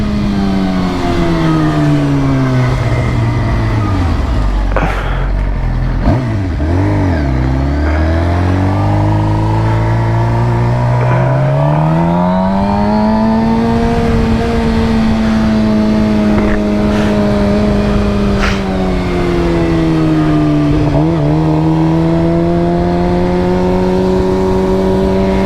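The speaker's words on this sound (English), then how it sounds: "Quick little power wheelie." A Suzuki GSX-R 750 motorcycle revs hard through a power wheelie. The loud, close engine note climbs, drops and climbs again in long sweeps over steady wind rush, with no talking.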